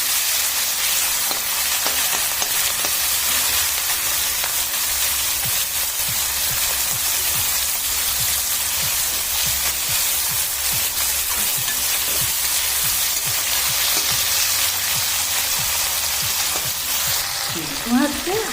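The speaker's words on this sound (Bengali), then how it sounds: "তেল দিয়ে গরম করে নিয়ে চিংড়ি মাছটাকে দিয়ে দিলাম হালকা ভেজে" Prawns frying in hot oil, a steady loud sizzle and crackle that runs unbroken throughout, with occasional faint stirring clinks and a soft spatter near the end.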